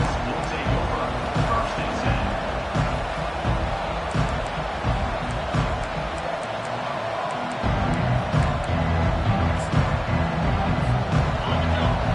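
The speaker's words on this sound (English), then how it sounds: "This crowd, full throat, spreading the eardrums and letting them know it's going to be a long day." A stadium crowd roars in an NCAA 25 college football video game during an LSU vs Auburn matchup, a dense sustained cheering wash that dips briefly before surging again, with commentary over it.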